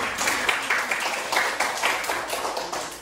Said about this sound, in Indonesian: Kemudian tepuk tangan ke semuanya.